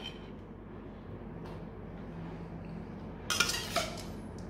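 Freshly cooked beef and lime-leaf stir-fry scraped from a pan into a container, a soft low scraping murmur followed by a short burst of sharp metallic clinks and clatters near the end.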